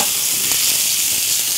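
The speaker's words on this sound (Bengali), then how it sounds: "আসলে রসুন আর এই যে তেলে মুরগিটা ভাজা হচ্ছে" Chicken pieces frying in hot oil with garlic, giving a steady, close, continuous sizzle with no voices.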